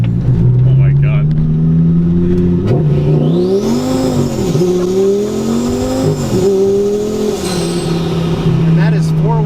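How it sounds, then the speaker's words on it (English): A 1,040 horsepower Lamborghini Gallardo revs hard with all four wheels spinning, its loud engine note climbing and dipping through several rev swells alongside high tire whine, while people talk and exclaim over it. "And that is 4 wheels spinning."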